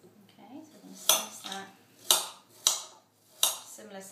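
Knife strokes and clinks of cutlery against a board or dish as an apple is peeled and cored for baby food, with several sharp transient clacks at irregular intervals, close and fairly quiet.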